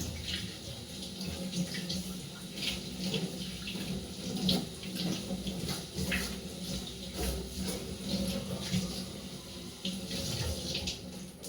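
Steady running kitchen tap with splashing water and clatter of dishes being washed in a sink, continuous and close, with no talking.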